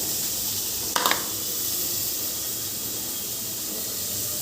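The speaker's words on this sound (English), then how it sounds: "I'm going to start cooking the onions first." Onions frying in a pan for egg curry make a steady, even sizzle and hiss, with a brief clink of a utensil near the start.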